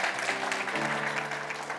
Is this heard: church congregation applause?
yes